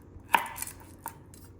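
Garlic being chopped with a kitchen knife for spaghetti carbonara: three crisp, separate knife strikes on a board, close and clear, with quiet pauses between them.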